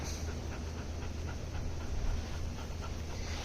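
A puppy pants close by in quick, steady rhythmic breaths, soft but continuous over a low background hum, with no talking.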